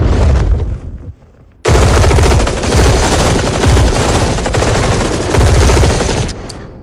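Dense, rapid gunfire from several guns in a Hindi-dubbed South Indian action movie roars close and loud, dropping out for a brief half-second lull before another sustained volley that tails off at the end.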